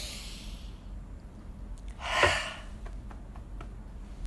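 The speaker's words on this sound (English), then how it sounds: "take a deep breath." A single deep breath, an audible inhale and exhale swelling briefly near the middle, close and clear against a quiet room with no talk.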